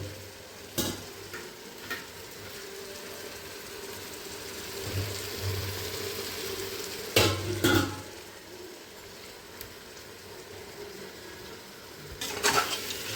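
Chicken biryani being stirred in a pot over a low, steady sizzle, with a handful of louder scraping strokes spaced several seconds apart.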